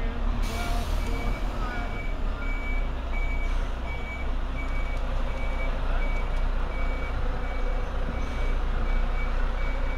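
A truck on a road in Bulgaria sounds its reversing alarm in regular evenly spaced beeps over a loud, steady engine rumble and traffic noise, with a short hiss near the start.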